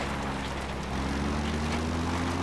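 A support helicopter arrives in the video game Metal Gear Solid V, its rotor and engine roar a dense, constant wash of noise throughout, steady and fairly loud with a low pulsing undertone.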